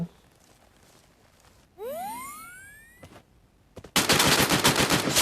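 An M60 machine gun rips out a loud, rapid burst in a multiplayer shooter game, preceded by a rising electronic whine and a couple of sharp cracks.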